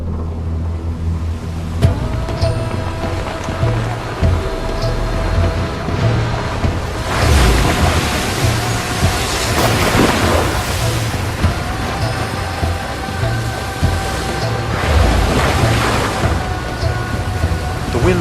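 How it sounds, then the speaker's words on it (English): Loud, continuous wind gusting up to 60 miles an hour and rough lake water churn over a low engine hum, with surging gusts and splashing spray rising and falling. "A huge windstorm came up out of nowhere."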